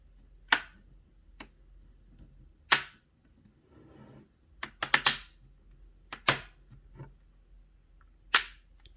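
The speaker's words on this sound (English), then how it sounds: "These are just the clips engaging." Plastic clips on a 2015 Samsung Galaxy Tab A snapping loose as the case is pinched apart, heard as sharp, close, isolated clicks and cracks spaced irregularly over a quiet background.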